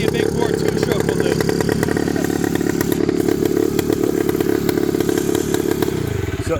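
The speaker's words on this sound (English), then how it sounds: "Idles beautifully. And it's got that big bore shake that only a big bore two-stroke will do." A Yamaha RT3 big bore two-stroke motorcycle idles up close, a loud, steady, rough burble with rapid uneven pulsing and shake, continuing alone throughout.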